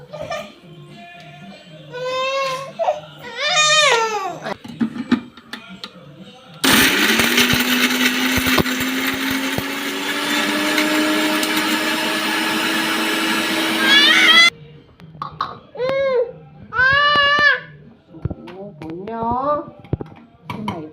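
Kitchen mixer grinder whirring loudly and steadily for about eight seconds while grinding ginger, green chillies and tomato, with a rising motor whine, framed by a person speaking before and after.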